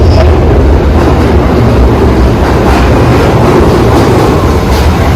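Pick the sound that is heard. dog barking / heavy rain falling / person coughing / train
train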